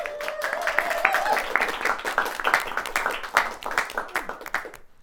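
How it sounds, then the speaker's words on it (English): Audience applause from a crowd at a youth event, a dense spread of claps with a few whoops, steady and fairly loud before fading out at the end. "would you guys please give yourself a round of applause?"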